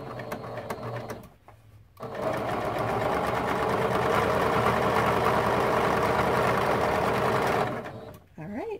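A sewing machine stitches the last seam of a quilt block in one steady, continuous run lasting about six seconds, loud and close, with brief quieter handling before and after it.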